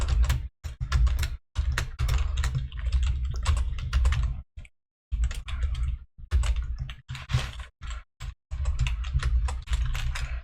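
Rapid bursts of typing on a computer keyboard while coding a Discord bot in Python, dense clattering keystrokes with short pauses between runs, loud and close, no talking.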